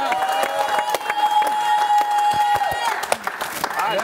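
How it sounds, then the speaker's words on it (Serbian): Audience applause at a TV show's air-balloon game, steady clapping and crowd noise throughout, with a sustained whistle-like tone over part of it and voices mixed in. "Veliki aplauz za jedan bod."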